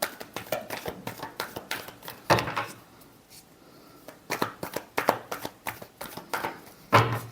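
Tarot cards are shuffled by hand, a rapid riffling and slapping in repeated bursts with short pauses between, close and fairly loud, with no voices.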